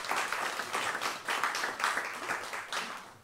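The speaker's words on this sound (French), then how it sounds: "Bonne année, on peut s'applaudir." An audience in a New Year church gathering claps in a steady, sustained round of applause, moderately loud with rhythmic surges, and a voice briefly mixed in.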